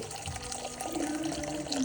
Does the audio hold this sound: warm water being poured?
yes